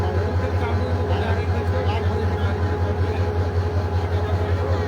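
The Dolonchapa train reverses at Parbatipur station, its engine giving a loud, steady low rumble that pulses evenly and stays close, while someone talks over it.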